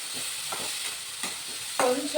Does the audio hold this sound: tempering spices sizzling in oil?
yes